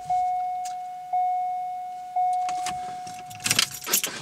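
Steering column lock actuator operating with the key in the ignition of a car: three short electronic chimes at even intervals, then brief mechanical whirring and clicking from the actuator, close and moderately loud, with no talk.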